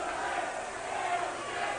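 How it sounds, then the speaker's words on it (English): A wrestling arena crowd at an NWA TNA event in 2003 roars and shouts in sustained, loud collective reaction to interference during a match between Michael Shane and Jerry Lynn. "The crowd can't believe it."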